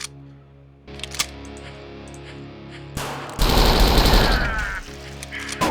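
Enemies firing shotguns in a video game: a quiet humming background, then a sudden heavy barrage of loud blasts that fills the last seconds.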